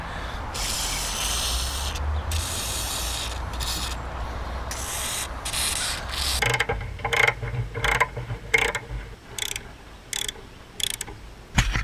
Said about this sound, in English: So we're going to go ahead and spray these 3 17 millimeter bolts right here.